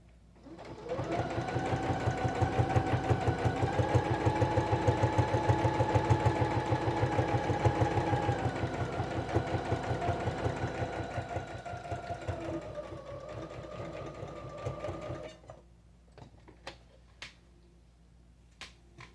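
A sewing machine runs steadily for about fifteen seconds, stitching an apron pocket, its rapid needle rhythm close and loud, then stops and leaves a few light clicks and handling taps.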